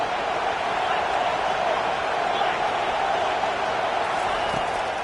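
Stadium crowd noise from a college football video game, a steady broad roar of cheering that holds at an even level throughout with no breaks.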